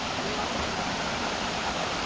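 Small mini falls near Mt. Sembrano in Laguna, a steady, close rush of falling water with an even, unbroken hiss throughout and no voices.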